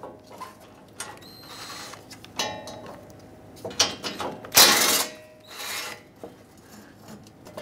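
A ratchet with a 10mm socket loosening the two hood latch mounting nuts on a 2007-2014 Chevrolet Silverado 2500 HD, heard as scattered close clicking bursts and a sharper rasping spell midway, with no talking.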